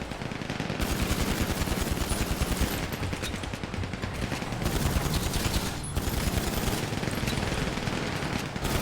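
Sustained rapid bursts of video game machine-gun fire, loud and continuous, with brief gaps between volleys.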